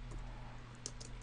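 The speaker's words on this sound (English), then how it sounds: "we're going to type in" Sparse keystrokes on a computer keyboard while code is entered into a Delphi program, a few soft, quick clicks over a steady low hum of room and computer noise.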